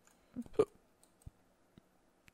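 Computer keyboard keys clicking sparsely during a game, a few soft close taps and clicks in an otherwise quiet room.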